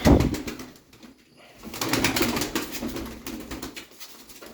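Pakize pigeons cooing in a loft, soft repeated low coos close by with a brief rustle at the start, no talk over them.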